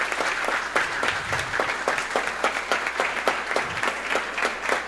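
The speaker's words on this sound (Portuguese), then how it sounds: "eu quero que vocês aplaudam ao João por esta atuação" Audience at a ninth-grade school presentation in a Christian school applauding, steady dense clapping with some sharper individual claps throughout, fairly close and sustained.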